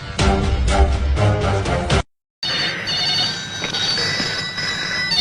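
A telephone rings loudly in rapid, rhythmic bursts, cuts off for a moment, then a brighter ringing tone continues alone.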